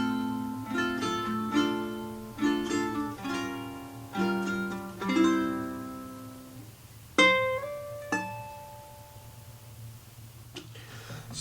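Clean guitar plays a passage: plucked chords and single notes ringing out and decaying, close and fairly quiet, over a faint steady background hum.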